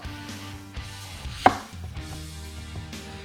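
Knife slicing red onion into thin slivers on a board, a salad ingredient; a few soft chops with one sharp louder cut near the middle, close and fairly quiet, no talking.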